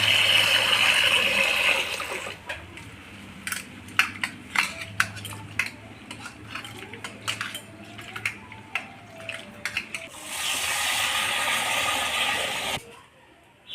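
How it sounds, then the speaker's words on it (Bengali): Red lentils (masoor dal) are washed in a bowl: running water pours at the start and end, and between them grains and water swish with light clinks against the bowl, close and fairly quiet. "প্রথমে ডালগুলোকে ধুয়ে নিই পরিষ্কার করে।"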